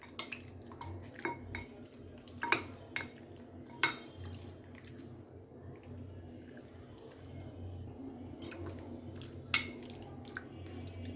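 Raw chicken being hand-mixed with chili powder and mustard oil in a metal bowl, with a few sharp clinks of the bowl and utensils over a low, steady background hum.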